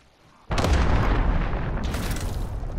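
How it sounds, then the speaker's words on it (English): A cruise missile in Call of Duty: Modern Warfare lands with a sudden loud explosive boom after a quiet moment, followed by a sustained roaring rumble of debris that stays heavy to the end. "Enemy cruise missile incoming."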